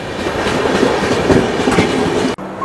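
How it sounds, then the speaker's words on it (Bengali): The Mithila Express train rolls slowly along the tracks with a continuous rumble and rhythmic clatter of wheels, fairly close, until a brief cutoff near the end. "ট্রেন স্টার্ট করার পরই পরপরই এত স্লো চলছে।"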